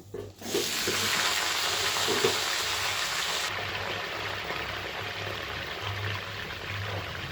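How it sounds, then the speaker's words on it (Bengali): Spring onions, potatoes, dried chillies and nigella seeds fry in hot oil with a loud, continuous sizzle, close up, along with occasional stirring scrapes. "এবার কাঁচা শুকনো লঙ্কা, কালো জিরে, পেঁয়াজকলি আলু সমস্ত কিছু তেলের মধ্যে আমি ভালো করে ভাজা ভাজা"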